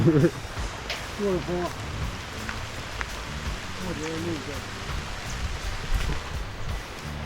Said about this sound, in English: I'm out in the rain.